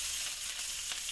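Onion sizzling as it slides into already hot oil for a Croatian goulash, a steady bright hiss of frying held at close range for the whole moment, with faint crackles rising near the end.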